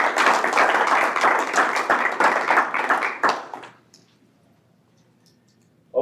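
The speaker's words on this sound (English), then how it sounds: "I think we can clap for that, Joe." A small group at a meeting claps together for several seconds, a close, steady patter of hands that fades out into near silence.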